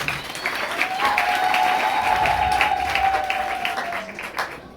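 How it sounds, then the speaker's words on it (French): Audience applause at a college ceremony, a burst of dense clapping from a crowd that swells and holds, with a faint sustained tone running underneath, then tapers off near the end. "veuillez applaudir chaleureusement la présence de tout et chacun."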